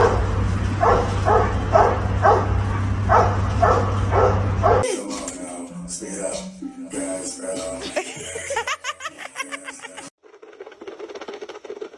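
A small dog yaps in a rhythmic series of sharp barks at a cat over a steady hum, then the sound cuts to a jumbled mix of squeals, whimpers and other noises.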